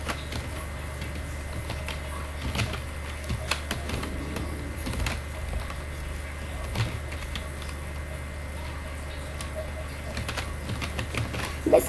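Keys on a computer keyboard tap irregularly while text is entered into an Excel sheet, light close clicks over a steady low hum with no talk.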